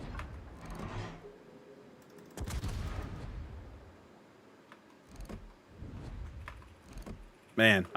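Naval gun turrets firing in World of Warships: several deep, booming salvos spaced a few seconds apart, with rumbling tails and a faint mechanical background, while someone talks intermittently.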